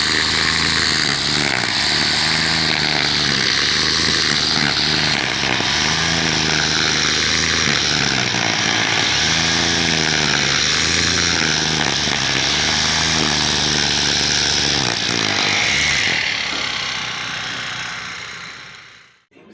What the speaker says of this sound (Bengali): এই যে ঘাস কাটা মেশিন দেখাবো আপনাদের